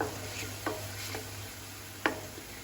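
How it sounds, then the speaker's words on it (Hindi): Onions sauté in a pan over a medium flame for a masala arbi dish, a soft steady sizzle broken by a few sharp stirring clicks of a utensil against the pan, quiet and close. "प्याज का सारा कच्चापन हमने निकालना है और इसे हमने गोल्डन होने तक भूनना है"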